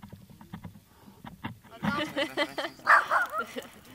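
Several dogs bark and yap back and forth in a chorus near a riverside during a river rafting trip, some close and some farther off, with people talking over them.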